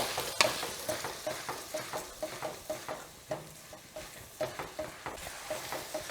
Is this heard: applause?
no